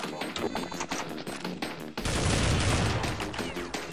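Rapid gunfire in Counter-Strike 1.6, a dense automatic burst that gets louder and harsher halfway through and keeps rattling without pause.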